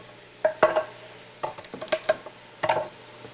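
Vegetables and garlic sauteing in a beef stew pot, soft sizzling under several sharp metallic clinks and scrapes of a utensil against the pot, close by with no talk.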